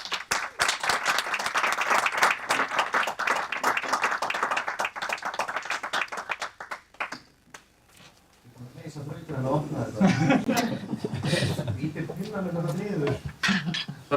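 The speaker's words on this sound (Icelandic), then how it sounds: "stjórn BTI vill endilega klappa fyrir honum" Audience at the BTÍ annual meeting clapping for Finnur, a dense burst of applause over roughly the first seven seconds that thins out, followed by people talking nearby.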